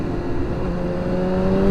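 BMW S1000RR sportbike ride, a continuous engine drone with rising pitch and wind roar, steady and close, no talking.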